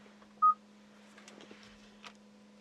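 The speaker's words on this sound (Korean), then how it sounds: "전화 한번 연결해 보죠." A single short dial tone beeps as a phone call connects through a KG Mobility Torres EVX's Bluetooth system, followed by faint soft clicks over a steady low hum.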